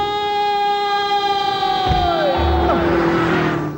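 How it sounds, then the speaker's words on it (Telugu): A vehicle siren wails loud and close with a sustained rising-and-falling tone that bends downward midway, with engine rumble underneath, in a Telugu comedy scene. "సైరన్నే కొట్టాడు."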